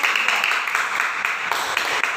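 Classroom applause for a student group during a school lesson, a steady wash of clapping from many hands filling the whole clip with no talk over it.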